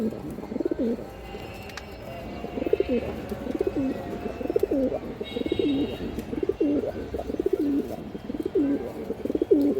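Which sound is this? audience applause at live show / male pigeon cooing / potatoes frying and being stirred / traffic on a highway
male pigeon cooing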